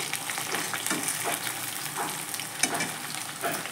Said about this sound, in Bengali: এই যে দেখো ভাজা বসিয়ে দিয়েছি, গোল গোল করে আলু কেটে ভাজা হোক